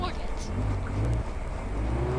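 A car engine in a driving video game, a steady loud motor drone running the whole time with slight pitch changes as if revving.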